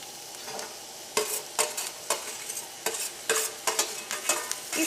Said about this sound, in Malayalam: ഇനി നമുക്ക് ചൂടായ എണ്ണയിലേക്ക് നമുക്ക് സവാളയും ഇഞ്ചിയും വെളുത്തുള്ളിയും പച്ചമുളകും വേപ്പിൻ്റെ ഇല ഇട്ടിട്ട് നമുക്കൊന്ന് വഴറ്റിയെടുക്കാം.